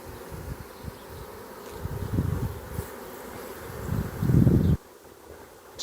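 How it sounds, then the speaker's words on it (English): A honey bee swarm in tree branches buzzes and fans close to the microphone, a dense droning hum that swells louder then drops away abruptly, with some wind and rustling. "I see some bees up in the branches here,"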